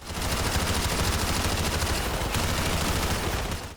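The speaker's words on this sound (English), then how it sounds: "We slowly walk out into the airport and begin to open fire on airport security and civilians." Sustained automatic gunfire from the Modern Warfare 2 airport mission, a video game, as shooters open fire on airport security and civilians; dense, continuous rattling shots fill the whole stretch at steady loudness with no talk.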